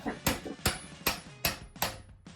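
Steady metallic hammer blows on school bus rivets during demolition, six evenly spaced strikes ringing out loud and close, with no talking.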